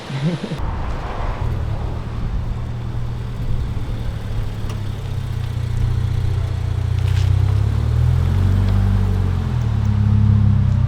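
A 2022 Subaru BRZ on a test drive, freshly fitted with new wheels, its engine a steady low hum and road rumble that grows slightly louder and denser toward the end, with no talking.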